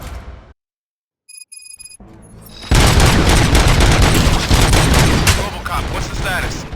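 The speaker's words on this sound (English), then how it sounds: "Gunshots? What's going on?" Dense burst of gunfire and booming impacts from the action game RoboCop: Rogue City, loud and sustained after a short quiet gap, with brief electronic tones just before the shooting erupts.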